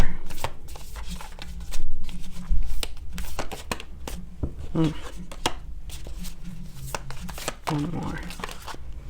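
A deck of tarot cards is shuffled by hand at a reading. Close, papery flutters and taps come in short bursts over several seconds, with a brief spoken phrase in between.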